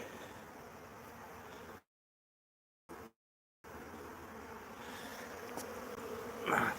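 Honeybees buzz around their hives as foragers return with pollen, a steady close outdoor drone broken by two short silent gaps, with a few louder passes near the end.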